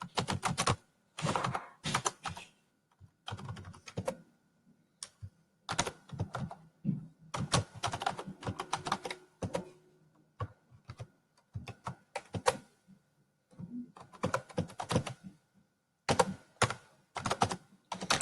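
Typing on a computer keyboard while entering names into a Microsoft Word 2019 mail merge list, close-up bursts of rapid key clicks separated by short pauses, with no talking.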